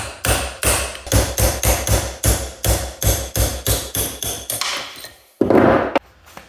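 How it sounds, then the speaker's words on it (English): A hammer pounds a pin out of the reverse fork of an R32 GTR gearbox during synchro gearset assembly, striking in a steady run of about a dozen loud, close metallic blows, then a brief pause and a final louder hit. "Pound the pin out of the reverse fork"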